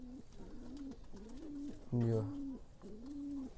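Paired pet pigeons coo in repeated soft rolling phrases, close and quiet, with a brief louder call in the middle and a short spoken word over them.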